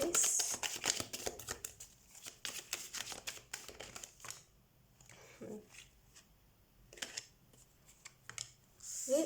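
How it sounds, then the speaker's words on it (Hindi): Tarot cards shuffled by hand in a quiet indoor setting, giving a run of soft, rapid riffling and flicking bursts, close and fairly faint, with a pause midway before the shuffling resumes. "तो सबसे पहले हम कार्ड शफल कर देते हैं।"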